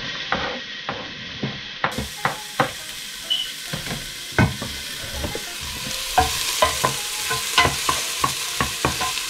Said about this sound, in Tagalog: Halo lang natin siya hanggang sa parang malambot na tong sibuyas.